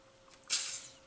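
A home-brewed Coopers Euro Lager bottle, made from a kit with light malt extract, dextrose and maltodextrin, opens with a single short, close gas hiss that fades within half a second.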